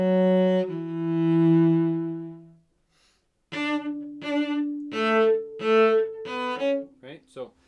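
A bowed string instrument plays an Allegro bow pattern: one long sustained note, a short pause, then a run of quicker separate strokes at regular speed, clear and close with no talking.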